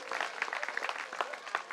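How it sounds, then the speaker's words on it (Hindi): Audience applause at a devotional Bhagavat Katha gathering, a dense wash of many hands clapping steadily at moderate volume for under two seconds, with no voices over it. "तो अपनी समझदारी के लिए एक जोरदार तालियां बजाइए"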